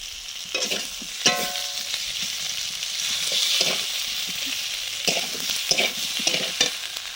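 Crabs fry in hot mustard oil with a steady, close sizzle, broken by intermittent scraping and stirring strokes of a spatula against the pan.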